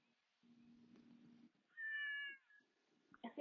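A cat meows once, a clear rising and falling call near the microphone, preceded by a low steady hum and followed by a few soft knocks at the end of a quiet room recording.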